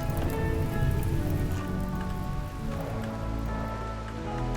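Steady rain pattering on a surface in the colony game RimWorld, a dense continuous hiss running loud throughout, with game tones humming underneath.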